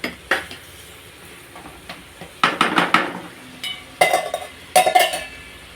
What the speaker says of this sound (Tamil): நல்லா வதக்கிக்கலாம். மசாலா, ப்ரானு எல்லாம் நல்லா மிக்ஸ் ஆகட்டும்.